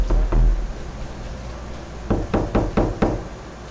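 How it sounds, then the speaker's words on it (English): Knocking sounds from different directions during a live stream: a dull thud early, a quiet stretch, then a quick run of four or five sharp, loud knocks over a low background hum. "That literally is just knocking from different directions."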